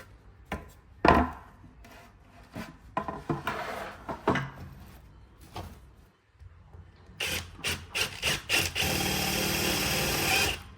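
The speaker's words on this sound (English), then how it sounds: "let's drill this." A power drill whirs in short bursts, then runs in one long sustained grind through a structural beam, with clunks and knocks of handling between the bursts.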